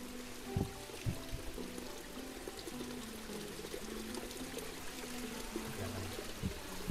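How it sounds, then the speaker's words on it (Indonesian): Water trickling and flowing from a hidden stream beside a natural pond, a steady close wash of running water with a few soft knocks and low hum in the background, no voices. "Nah, kita dengerin efek airnya aja ya."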